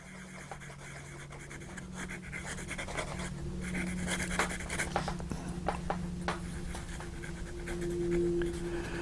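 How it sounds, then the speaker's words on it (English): A fountain pen nib scratches softly on a well-used abrasive smoothing board, steady faint strokes continuing for several seconds with a low background hum and no talking. "we're going to do a little bit of smoothing on that nib and see what we can get out of it"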